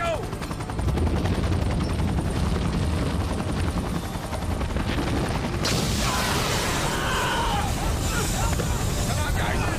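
A helicopter roars loud and continuous in an action movie scene, its engine and rotor wash filling the frame while shouted voices break through and a sharp burst of noise lifts the texture about halfway through.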